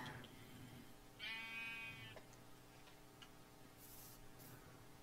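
A single Minecraft sheep bleats once, a short wavering baa heard close but quietly against a soft game background with faint ticking, no talking over it.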